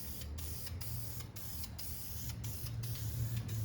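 Spray primer hisses steadily onto a car dashboard during a Lincoln Continental V10 rear-drive conversion build, with short bursts broken by brief pauses, close and fairly loud.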